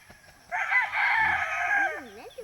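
A rooster crows one long, strong call on a family farm with chickens around, fairly close, trailing into softer clucking at the end.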